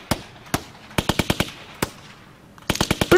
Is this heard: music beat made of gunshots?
yes